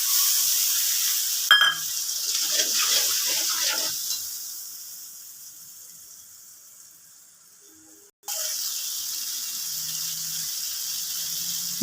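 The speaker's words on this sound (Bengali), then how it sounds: "এই মশলাটাকে আগে কষিয়ে নেব।" A spice paste of salt, turmeric and chili powder fries in oil that has already fried fish, after a black cumin tempering, for an amudi fish curry. A loud sizzle slowly fades, then stops abruptly and returns as a strong, steady hiss.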